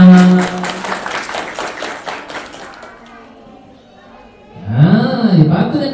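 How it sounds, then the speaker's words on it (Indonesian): At a kindergarten school-orientation closing event on parenting, an audience claps in a rhythmic, patterned burst that fades, then a voice comes in over the end. "Tepuk tangan."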